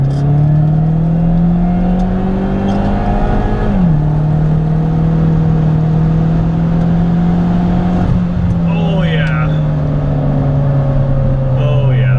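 Car engine held in second gear at about 3,500 RPM, a loud steady drone with a brief dip and recovery partway through, close and continuous, with someone talking faintly over it.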